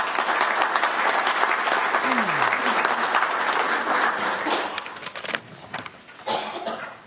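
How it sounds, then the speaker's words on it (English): Audience at a Cherokee history presentation on the Goingsnake Massacre bursts into loud, sustained applause welcoming a speaker to the front, the clapping thinning toward the end with brief voices and a few coughs. "Let's give him a warm applause."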